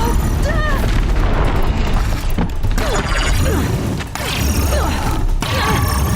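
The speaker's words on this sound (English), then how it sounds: "What the heck is hitting me? Logs!" Heavy thuds and booming impacts in Horizon Zero Dawn: The Frozen Wilds as logs strike the player, mixed with mechanical game noise and a dense, busy soundscape throughout; a voice speaks briefly over the action.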